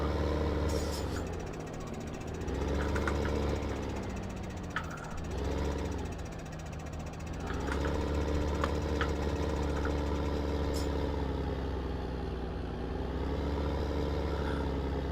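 A farm tractor engine idles steadily close by, a continuous low throbbing rumble with slight swells in level and a few faint clicks and knocks over the top, no talking.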